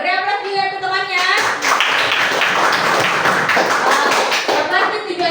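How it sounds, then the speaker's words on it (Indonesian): Children clapping for a classmate in an art lesson on sketching, a burst of dense, close hand claps that builds quickly and continues steadily while young voices chatter over it. "beri aplaus juga untuk temannya"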